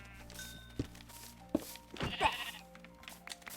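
A single short sheep bleat in Minecraft rises in the middle, amid soft clicks and thuds, with low background music underneath.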